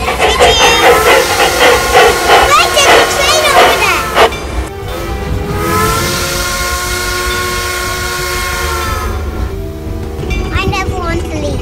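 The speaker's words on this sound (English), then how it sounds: "You're waiting for the blue train. It's coming, look." A steam train rumbles past with loud hissing and a long blaring horn in the middle, the rolling clatter filling the scene.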